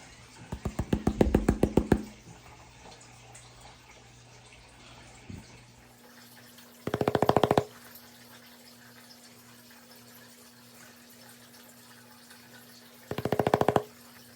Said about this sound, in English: Try to wash that back a little bit.